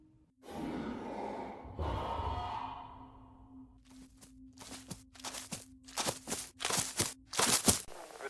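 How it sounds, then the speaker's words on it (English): In an audio drama, heavy drawn-out breaths and sighs come first, then a run of shuffling footsteps and rustles, close and moderately loud, over a faint steady hum. "she didn't hear the shuffling of feet behind her, or the heavy breathing"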